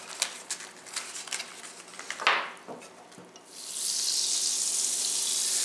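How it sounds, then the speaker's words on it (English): Butter going into a 16-inch Presto electric skillet preheated to 350 degrees with olive oil, first a few scrapes and knocks, then a loud, steady sizzle that swells up and holds to the end. "And then I'm going to add about 2 tablespoons of butter"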